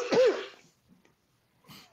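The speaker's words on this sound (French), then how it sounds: "j'ai juste toussé" A single short, harsh cough close to the microphone at the start, then near silence with a faint rustle at the end.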